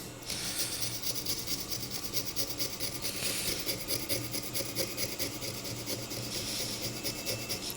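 A thin blade being sharpened, a steady, continuous rasping scrape with a fast, even stroke rhythm, close and fairly loud throughout, no talking.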